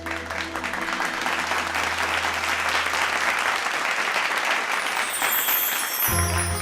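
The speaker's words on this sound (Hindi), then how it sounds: "तो तालियों के साथ स्वागत कीजिए वीना जी और उनकी बहू का।" A studio audience claps steadily in welcome for arriving guests, a dense, continuous wash of applause that stays loud throughout, with a musical tone joining near the end.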